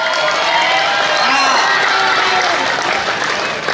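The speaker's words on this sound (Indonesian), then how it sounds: "dia tepuk tangan" A crowd at a live comedy show applauds loudly and steadily, with cheering and excited voices rising over the continuous clapping.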